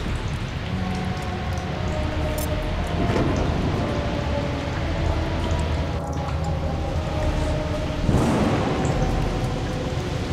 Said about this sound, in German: Wo ist denn dieser doofe Sturm? Den müssen wir mal kurz abwarten.